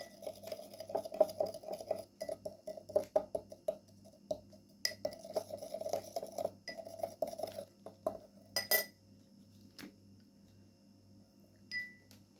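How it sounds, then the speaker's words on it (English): Dry ingredients stirred with baking soda in a bowl for a homemade hair-removal mix, with soft repeated clinks and scrapes of a spoon against the dish, quiet and close, pausing now and then. "Then we need to add on it 1 teaspoon of baking soda and mix well the dry ingredients"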